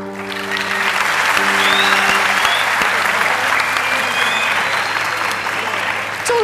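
A television talent-show audience in Turkey applauds loudly and steadily after a singer's second-round performance, a dense, sustained wash of clapping with faint lingering musical tones underneath early on.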